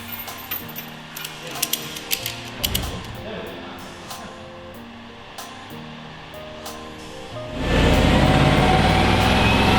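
Ratchet straps clicking in short irregular bursts as a Jaguar XJ is secured on a dyno, with workshop clatter and low background noise, then a loud steady roar rising from about the eight-second mark.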